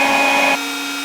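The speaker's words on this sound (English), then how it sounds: "I'm going to be using the MAKITA portable hoover" A Makita portable vacuum hoover attached to a router for dust extraction runs loud and close as a steady whine and rush, then drops to a quieter hum partway through.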